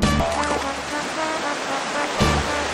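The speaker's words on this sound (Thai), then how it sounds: "ตอนนี้เราก็มาถึงชายหาดตะลุเตาแล้วนะคะ" Steady surf and breaking waves wash in on the beach of Tarutao island in Thailand, a loud, continuous rushing roar with a couple of stronger surges, and no one talks.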